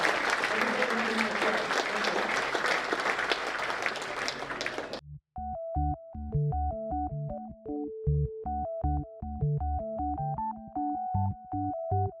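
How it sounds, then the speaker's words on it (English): An audience at a county association meeting bursts into dense, loud applause for about five seconds. It cuts off abruptly into a short electronic melody. "one last round of applause"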